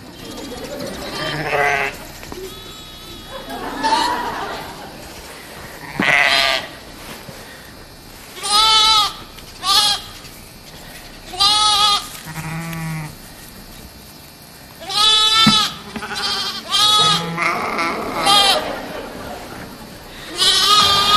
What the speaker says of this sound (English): That little pinto baas the entire time.